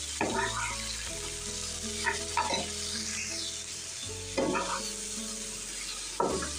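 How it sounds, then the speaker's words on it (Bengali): Bitter gourd fries in a pan with a steady, close sizzle, while a utensil stirs and scrapes through it in several distinct strokes. "আজকে প্রথমে করলা ভাজিটা করব।"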